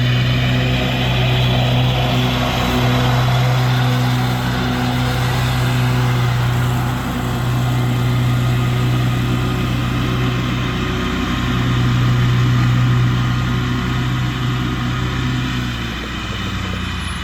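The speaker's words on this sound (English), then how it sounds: "We had a UPS truck come by." A UPS delivery truck rumbles past outdoors with a loud, steady engine drone that fills the whole stretch, slowly swelling and easing with no break and no voices.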